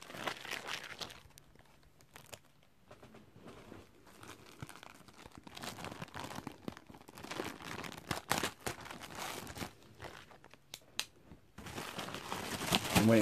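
New Evade Cheshire martial arts gloves being cut free of their packaging, with crinkling and tearing of plastic in bursts, close up and fairly quiet, with no talking.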